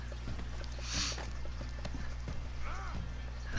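Horse hooves clip-clopping in the video game Red Dead Redemption 2, a run of quick, fairly soft hoofbeats over a steady low background hum.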